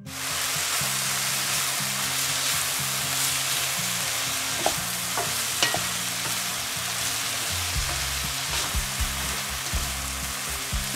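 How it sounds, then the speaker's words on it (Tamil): Green beans mixed with ground lentil powder fry in oil with a continuous close sizzle, and a spoon stirs through the pan with scattered scraping taps. "ஆட் பண்ணிட்டு இத நல்லா mix பண்ணி விடணும்."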